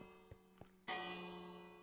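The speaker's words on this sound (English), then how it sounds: "anytime that pulse goes through, it sets off the bell" A Minecraft bell rings once, bright and clear with a long ringing decay, after two soft taps from a redstone alarm pulse.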